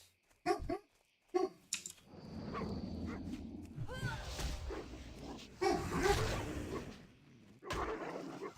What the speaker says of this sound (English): Oh, that would be my dog.